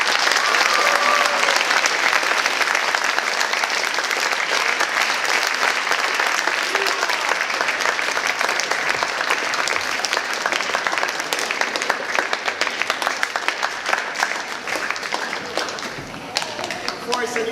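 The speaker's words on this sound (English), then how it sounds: "round of applause for our SAD students" A crowd of high school students applauds in a gathering after a mock crash demonstration, loud sustained clapping from many hands that carries on steadily for the full stretch and thins slightly toward the end.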